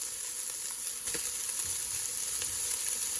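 Leftover Thanksgiving turkey goes into a hot pan, raising a steady, close sizzle and frying hiss with faint scrapes and soft clatters of the meat settling, and no voices.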